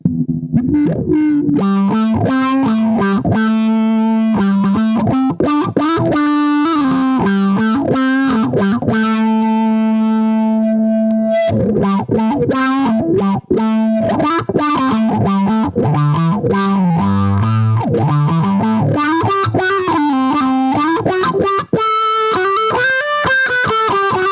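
Electric guitar through a Carl Martin Ottawa AutoWah pedal with the low-pass mode on, a distorted, synthy filtered tone sweeping as a continuous riff plays for the whole stretch, loud and close with no talk.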